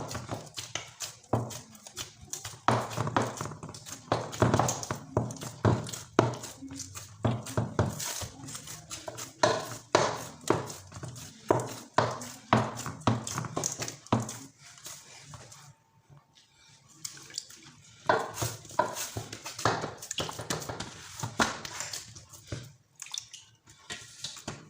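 Desi wheat dough kneaded by hand, turned and pressed repeatedly, giving close, wet squelching and slapping pushes in an uneven rhythm, with a short pause partway through and no talking.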